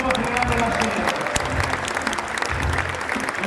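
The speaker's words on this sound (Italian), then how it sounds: "Un applauso ai primi due che dopo apriranno la scena." Applause breaks out at a food event in Rimini, loud and dense clapping from a crowd with voices mixed in and some louder thumps.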